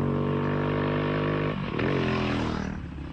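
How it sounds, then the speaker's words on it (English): A water-powered motorbike cruising at about 100 km/h on a road in the far north, its engine droning steadily and close, with a brief shift in pitch midway and no talking. "It looks like a normal motorbike cruising at 100 k's in the far north"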